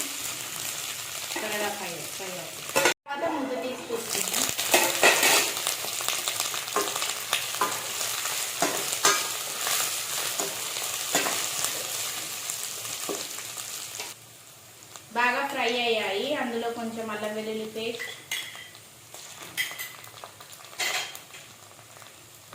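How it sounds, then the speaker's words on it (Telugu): Ridge gourd and moong dal curry tempering with coriander frying in a covered pan, a steady close sizzle with occasional clinks of a spoon or lid and brief voice-like moments mixed in. "ఇప్పుడు వీటిని బాగా ఫ్రై అవ్వాలి కొంచెం మూత పెట్టుకున్నాం"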